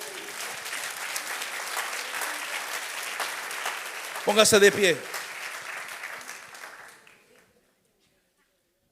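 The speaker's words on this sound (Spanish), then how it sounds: "denle el aplauso." A church congregation applauds during a sermon. Dense, steady clapping fills the room for several seconds while a preacher speaks over it, then the applause fades out to silence.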